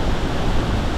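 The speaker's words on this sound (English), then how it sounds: "this is the very bottom of the waterfall." Roaring rush of water at the very bottom of a large waterfall reached by a long stairway in Costa Rica's Arenal and La Fortuna area, with a strong current below; a loud, steady broadband roar with no pauses.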